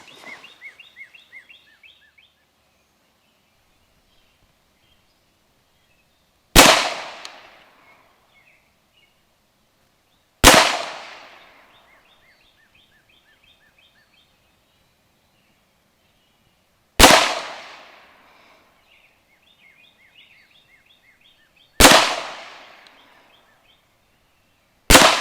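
An M&P 22 Magnum pistol fires hollow point rounds at an outdoor range. There are five sharp, loud cracks spaced several seconds apart, each ringing off quickly, while birds chirp softly in the quiet between shots.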